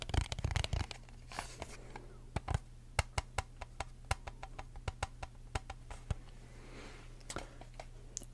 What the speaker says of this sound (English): The first one is this empty card box.